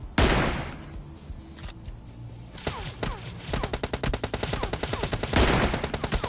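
Rapid bursts of gunfire in the mobile shooter PUBG Mobile Lite, an opening loud blast followed by dense, rhythmic volleys of close shots with clicking reload-like transients, loud and continuous with no talking.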